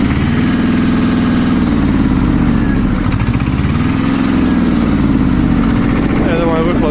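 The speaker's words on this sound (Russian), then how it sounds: "Мотор крутится легко и достаточно быстро." A small two-wheel-drive mini tractor's diesel engine runs steadily nearby, a loud continuous chugging hum with a slight rise and fall in pitch.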